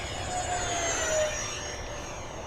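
An Eflite A-10 Thunderbolt II radio-controlled jet with twin 64mm electric ducted fans screams past at full throttle in a steep turn, a steady whining rush with a shifting pitch, heard from a distance.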